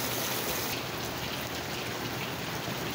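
Steady rain falls on a partly cloudy, partly sunny September day, a dense continuous hiss of drops spread evenly across the whole stretch with no voices.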